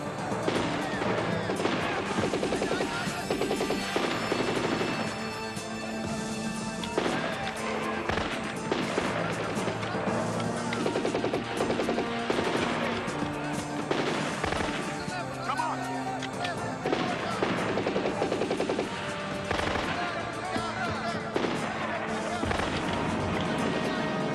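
Gunfire in a TV action series set in a combat zone: dense, loud bursts of shots and crashes fill the whole stretch, mixed with shouted voices and a constant rumble.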